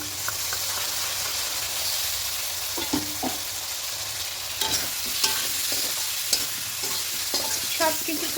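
Green chilli paste with ginger is stir-fried for a vegetarian khichuri made with sun-dried rice, a continuous close sizzle and hiss broken by scattered light spatula scrapes and taps on the pan.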